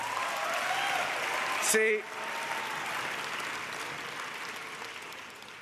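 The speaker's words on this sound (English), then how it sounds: "round of applause" An audience applauds during a joking speech by a speaker. Sustained clapping runs throughout under a speaking voice, with a brief louder burst midway before it settles back to steady applause.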